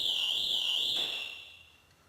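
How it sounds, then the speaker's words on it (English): A shrill, warbling electronic car alarm tone sounds for about a second as the alarm system disarms, then cuts off and fades into quiet. "We have now disarmed the alarm system."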